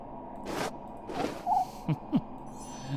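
An owl in a hat hoots in the hidden-object game Christmas Stories: Nutcracker, giving a few short, soft calls in quick succession against a quiet background.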